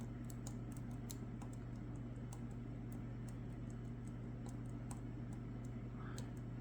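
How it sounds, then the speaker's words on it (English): Pins of a Bilock lock tick and click as the lock is picked: sharp, irregular little clicks sounding close over a steady low hum. "2 now clicks. 3. 3 is clicking. 4 clicks."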